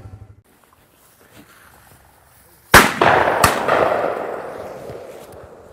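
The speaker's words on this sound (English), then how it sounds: "That was a good one. Good shot, Jesse." During a quail hunt a shotgun fires a loud, sharp blast after a quiet stretch, quickly followed by a second report, both ringing out across open ground as the echo fades away.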